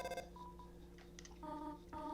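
Phone dialing in the video game Deltarune: a short burst of keypad beeps followed by a series of separate electronic dial tones in an uneven rhythm, heard alone and fairly quiet over a low background hum.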